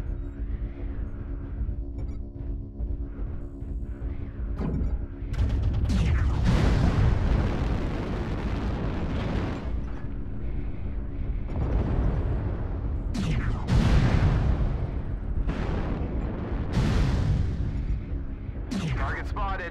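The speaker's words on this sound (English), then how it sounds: "Artillery strike online." Artillery strikes land in a combat video game as several heavy booming explosions, loud and close, each rumbling on for a moment over continuous background game noise.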